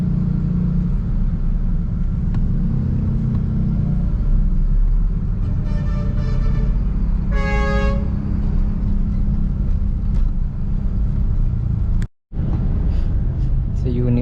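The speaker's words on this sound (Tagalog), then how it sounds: "Bigla nag-traffic dito oo." Sudden heavy traffic on a Philippine road between Marilao and Cubao via NLEX and EDSA, with a steady low engine rumble, a few short car horn toots and one louder honk in the middle, and a voice talking over it.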